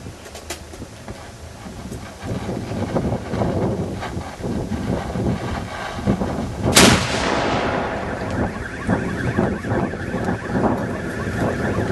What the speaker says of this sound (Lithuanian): Antroji iškilminga patrankos salvė už 1831 metų sukilimo dalyvius